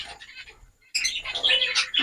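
Star finches chirp and twitter in bright, rapid bursts, quieter at first, then a brief pause before a louder, busier flurry of calls.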